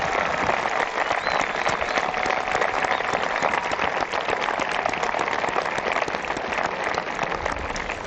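Commencement audience at a 2017 high school graduation ceremony applauding continuously and loudly, a dense, steady wash of many clapping hands throughout with no talk over it.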